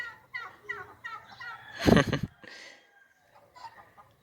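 Turkeys kept on a ranch gobble in short, rapid bursts, with one loud, dense gobble in the middle and softer clucking calls before and after, close by.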